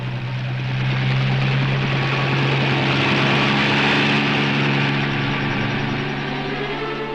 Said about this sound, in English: I took off by helicopter